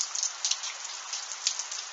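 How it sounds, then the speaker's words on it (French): A moderate hail shower batters surfaces during an evening thunderstorm in Tour-en-Sologne in February, a dense, steady patter with sharper pops of individual impacts, with no voices. "Ouais, là, il y a une sacrée averse"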